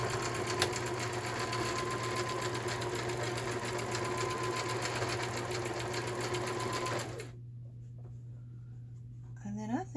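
A sewing machine stitches a line through fabric scraps for a collage, running with a steady, even mechanical whir for about seven seconds before stopping abruptly, followed by quiet and a few small handling noises.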